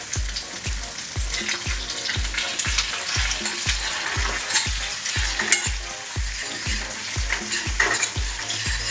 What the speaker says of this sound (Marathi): आता ह्याच्यामध्ये मी कढीपत्ता टाकणार आहे